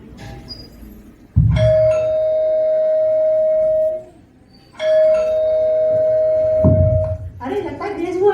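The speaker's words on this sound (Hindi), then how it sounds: "तभी अचानक से जोशुआ के घर की डोरबेल बजती है" A doorbell chimes twice, each ring a sustained electronic tone lasting a couple of seconds, with a thump at its start and a voice at the end.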